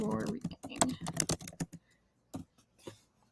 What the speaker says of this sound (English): I'm just typing in this message really quick.